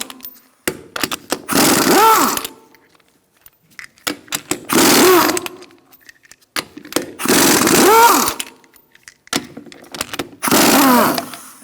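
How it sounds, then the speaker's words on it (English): An impact wrench spins off lug nuts through a 19mm socket on a 2002–2006 Honda CR-V's rear wheel, in four loud buzzing bursts of about a second each, separated by short pauses with faint clicks. "Using a 19mm socket, we're going to remove our lug nuts."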